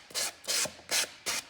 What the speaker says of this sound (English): That sandpaper does the job.